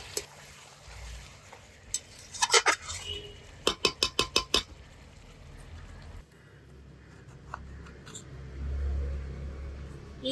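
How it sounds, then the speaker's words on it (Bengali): Chicken stirred and sautéed in a pan with a metal spoon, sharp clinks and scrapes in irregular bursts, including a quick run of rhythmic taps, over low kitchen background. "ভালো করে আবারও নাড়াচাড়া দিয়ে কষাতে থাকবো মাংস"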